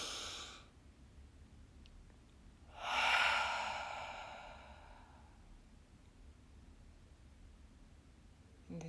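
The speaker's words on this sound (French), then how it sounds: "Inspirez profondément." A slow, deep inhalation during a guided breathing exercise, one soft breathy swell rising and fading over a couple of seconds, close and fairly quiet against a faint hiss, with a brief exhale at the start.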